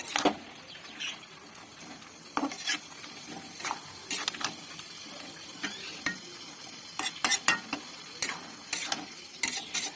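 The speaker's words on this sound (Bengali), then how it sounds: "সবগুলি ভালোভাবে মিক্স করে নেব শাকের সঙ্গে আলুগুলি" Mustard greens and potatoes stirred together in a pan in a village kitchen, with a quiet frying sizzle underneath and repeated sharp scrapes and clinks of a utensil against the pan, close up, no talking.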